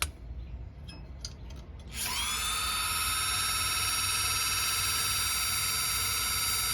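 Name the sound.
Mitsubishi electric parking brake motor pushing piston out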